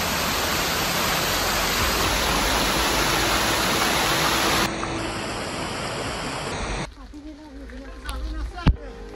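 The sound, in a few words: waterfall at Kondana Caves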